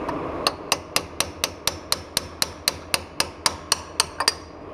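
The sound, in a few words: hammering shims in with a rounded chisel on Eaton locker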